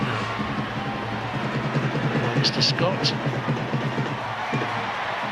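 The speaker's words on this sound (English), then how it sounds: "Good enthusiastic atmosphere with the crowd as well." Crowd at an England vs Kazakhstan women's World Cup qualifier football match, a steady broad roar of cheering and murmur under someone commentator's talk throughout.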